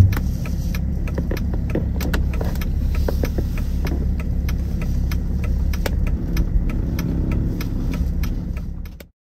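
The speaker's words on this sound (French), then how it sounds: "Allez, on va aller garer la voiture." A car rolls along to park, its engine and road rumble steady and close from inside the cabin, with faint rattles and clicks, before fading out at the end.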